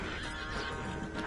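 A horse whinnies in the Red Dead Redemption 2 video game, a brief, fairly loud neigh over a dense game soundscape lasting about a second, no talk.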